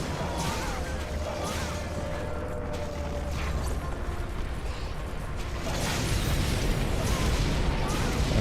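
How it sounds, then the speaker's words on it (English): A barrage of cannonballs explodes in Monster Hunter, a dense, continuous roar of blasts and rumbling booms that swells louder toward the end. "Now we have a huge barrage of cannonballs."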